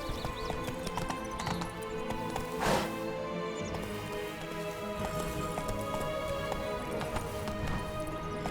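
Roach the horse gallops in The Witcher 3: Blood and Wine, a steady, fairly close clip-clop of hooves with a brief whinny, over a continuous bed of game music.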